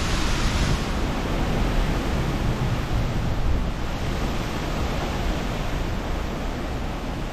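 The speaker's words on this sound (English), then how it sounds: "And gusts like that are getting significant." Strong Typhoon Mawar wind gusts in May 2023 roar as a loud, dense, continuous rush that surges slightly early on and then holds steady, with no talking.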